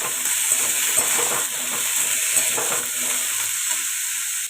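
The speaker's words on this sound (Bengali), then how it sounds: "5 ফোড়ন দেবো, কিন্তু শঙ্করের শরীরের অবস্থা ভেবে আমাকে এইটুকুনি তেল দিয়ে রান্নাটা করতে হচ্ছে" Five-spice tempering sizzles in a small amount of oil in a home kitchen in Kolkata as a vegetable curry starts frying, a steady close hiss with faint stirring scrapes and no voices.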